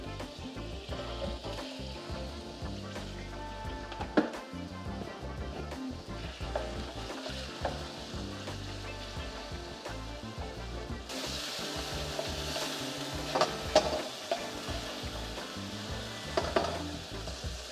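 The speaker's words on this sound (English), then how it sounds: "that's the second lot that has been browned" Pork pieces brown in a hot frying pan, giving a continuous close sizzle and crackle, with occasional scrapes and light clinks from stirring.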